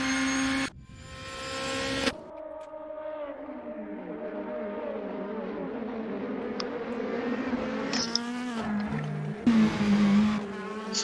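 Race cars in the Assetto Corsa racing video game scream past with sweeping engine pitch, gear changes and brief tyre squeal, loud and fairly close, with no voices over them.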